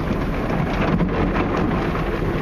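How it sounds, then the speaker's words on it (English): An automatic car wash sprays water onto a car, making a steady, dense hiss of spray that stays loud and even throughout, with no talking. "We're getting sprayed with some water."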